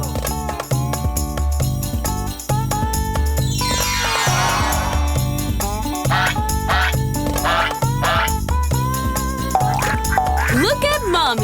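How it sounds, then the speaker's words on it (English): Toy mother duck and ducklings from a children's farm-animal toy set quack repeatedly over a busy, bright mix of tinkling, musical toy sounds that runs without pause. "Look at Mommy Duck teach the ducklings to dive and catch the fish."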